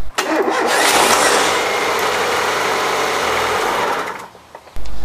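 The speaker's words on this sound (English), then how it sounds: "as you can probably hear, my starter motor is actually on its way out" A failing car starter motor cranks the engine in a continuous, strained whir for about four seconds, then cuts off without the engine catching.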